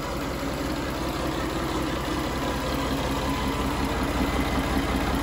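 Komatsu 6M108-2 six-cylinder turbocharged Japanese marine diesel engine, rated 290 to 345 hp, idling steadily with a low, even rumble and faint rhythmic knock, alone and unchanging throughout.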